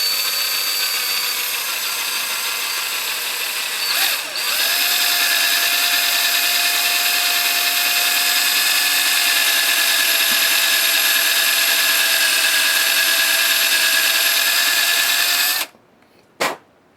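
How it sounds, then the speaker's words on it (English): A Forstner bit drilling a flat-bottomed hole in brake shoe material while working on a tractor, a loud continuous power-drill whine that dips briefly, runs steadily for about fifteen seconds, then stops with a short clunk. "Now this Forstner bit does not want to suck through the material like a regular drill bit"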